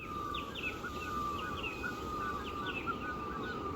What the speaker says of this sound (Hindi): हर चिड़िया अपने अपने तरीके से चहचा रही है